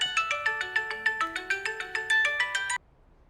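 A phone ringtone for an incoming call plays a quick repeating electronic melody of bright pulsed notes, loud and close, for under three seconds before cutting off abruptly.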